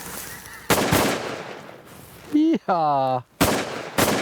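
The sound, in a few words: shotgun gunshots while waterfowl hunting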